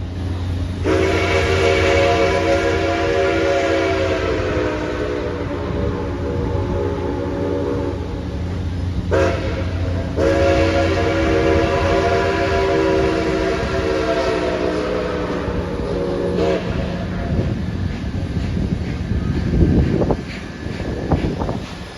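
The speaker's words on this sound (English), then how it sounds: "Nickel Plate Road 765 is full steam ahead." Nickel Plate Road 765, a steam locomotive running at full steam, blows long loud chime-whistle blasts with a brief break between them, over a steady rolling train roar that grows rougher near the end.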